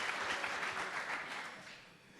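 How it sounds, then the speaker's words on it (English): Audience applause at a panel discussion for an awards event, a steady wash of clapping hands filling the room at moderate level, continuous for the whole stretch and slowly tapering toward the end. "I think that's an applause"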